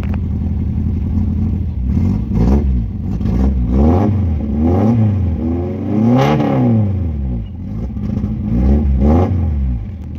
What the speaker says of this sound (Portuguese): Deixa eu funcionar o carro aqui pra vocês verem.